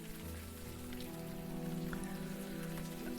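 Rain in the video game Unavowed, a steady pattering wash of falling rain heard under a sustained musical score.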